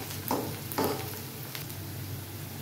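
Onion frying in a pan while cooking kundli bhujiya, a steady soft sizzle with a couple of brief stirring scrapes near the start, fairly quiet and without talk.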